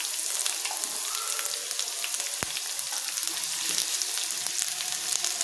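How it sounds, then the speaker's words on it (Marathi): Onions frying in hot oil for butter paneer masala, giving a steady, close sizzle with crackling bursts and faint stirring throughout, with no talking. "तेल असं गरम झाल्यावर कांदे टाकणार आहेत"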